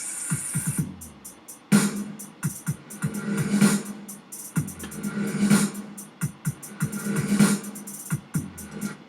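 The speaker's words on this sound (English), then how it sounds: "So let's listen to the drums." A programmed drum track with a reverb-washed snare and a crisp, trap-style hi-hat plays a steady, punchy groove. The snare hits land at regular intervals between busy, ticking hi-hat patterns.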